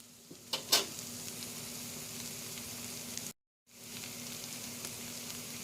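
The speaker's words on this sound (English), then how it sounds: "Now let it simmer for 3 to 5" A tostada filling with a whole jalapeno simmers in a pan, a steady soft sizzle and bubbling that runs continuously, with a couple of brief clinks near the start and a short silent gap midway.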